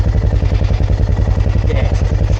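A motorcycle engine runs steadily and close as throttle is given, with a loud low rumble that pulses rhythmically and shows no voices.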